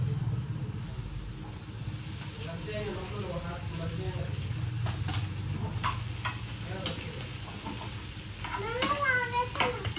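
Potatoes and asafoetida fry in a hot pan with a steady sizzle and occasional stirring scrapes, while a voice and other household voices break in over it at moderate level.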